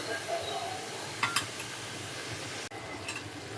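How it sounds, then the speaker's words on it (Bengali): Spice paste for a Rohu fish curry sizzles and fries in a pan while a spoon stirs and scrapes it, soft steady frying with a few sharp metallic clinks and scrapes, close and quiet. "সুন্দর করে এটাকে কষিয়ে নিতে হবে।"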